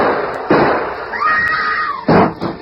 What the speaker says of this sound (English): Shooting in old Eli's house.